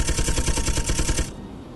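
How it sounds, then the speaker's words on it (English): Guns on a small fighter ship in Space Engineers fire a rapid, loud machine-gun burst of evenly spaced shots for just over a second, then cut off into a fading hum. "Not all my guns are firing."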